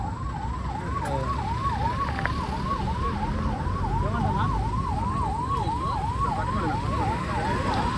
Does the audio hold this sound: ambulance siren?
yes